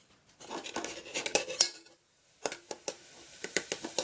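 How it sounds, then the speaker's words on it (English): Garlic stir-fried in a pan over a medium burner: a metal spatula clinks and scrapes against the pan in quick bursts, pauses for about half a second, then returns as separate, sharp taps. "And we stir fry the garlic."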